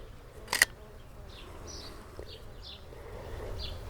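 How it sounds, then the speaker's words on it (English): Honeybees darting around a back garden give off faint, intermittent buzzing passes over soft outdoor background, with a single sharp camera shutter click near the start. "I guess they're little like honeybees. They're darting all over the shop."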